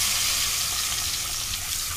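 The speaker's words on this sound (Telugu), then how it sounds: "వేసి గుడ్లని బాగా వేసుకోవాలి." Eggs fry in hot oil in a pan with turmeric, salt and chili powder, giving a constant, dense, close sizzle with no talking.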